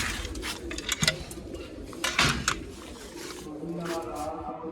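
Pet pigeons cooing in a loft, soft low coos repeating under background clatter and a few brief knocks, fairly close and moderately quiet.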